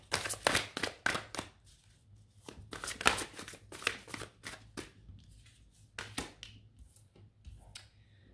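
Tarot cards laid out one after another on a table: close, crisp papery slaps and shuffles in quick bursts with short pauses between them.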